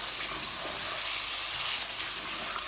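Chicken pieces sizzle and hiss as they are added to hot oil and frying masala for a chicken and bottle gourd curry, a steady close crackle with faint stirring and no talk.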